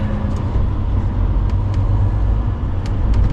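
A steady low rumble of vehicles idling and creeping along in a road traffic jam, heard from inside a truck cab, with faint hisses of air brakes now and then and no talking.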